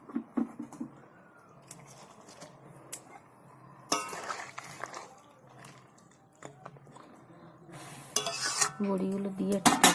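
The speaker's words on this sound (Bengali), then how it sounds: "আমি এর মধ্যে বড়িগুলো দিয়ে দেবো।" Lentil dumplings (bori) dropped into a simmering potato curry in a pot, with scattered clinks, scrapes and stirring knocks of a utensil against cookware, plus a soft bubbling bed and a louder clatter near the end.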